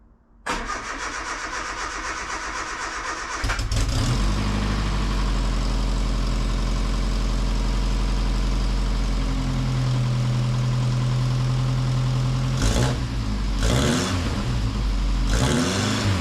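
A project car's engine cranks and catches, then idles loud and close before revving in several sharp rising bursts, and no one speaks.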